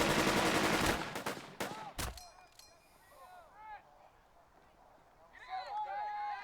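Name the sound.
gunfire in Burden of Command video game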